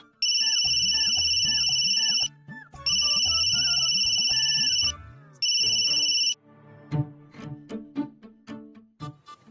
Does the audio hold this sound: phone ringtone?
yes